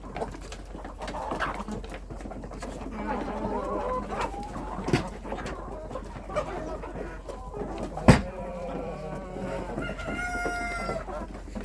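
Hens in a winter coop, mixed breeds including Australorps, Cochins and bantams, peck at oats with soft scattered clucks and quiet bird calls, a sharp knock and some rustling, while a person speaks faintly in the background.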